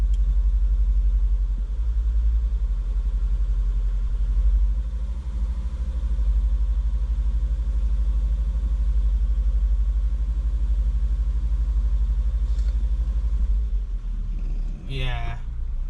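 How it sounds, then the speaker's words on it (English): A Volvo 2.4 non-turbo petrol engine with a cylinder 1 misfire idles with a loud, uneven low rumble and irregular stumbling pulses for most of the stretch, then a brief chirp near the end. "Now, we seem to still have a misfire. It's on cylinder 1."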